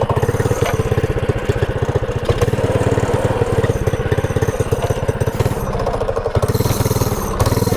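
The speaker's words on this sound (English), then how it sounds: "let's flipping start this thing." Small engine on a $90 minibike project starts and runs roughly, a loud, close, sputtering putter that keeps bogging and surging for several seconds with no talk.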